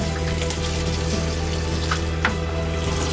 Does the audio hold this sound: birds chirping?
no